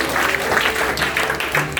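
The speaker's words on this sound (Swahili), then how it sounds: "Pigia Yesu makofi mazuri." A church congregation claps together in a dense, sustained round of applause at moderate distance, steady for the whole stretch.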